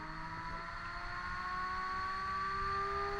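A 10kW Golden Motor electric motor running aboard a sailing catamaran, with a steady close whine whose tones climb slightly as it speeds up over a low hum.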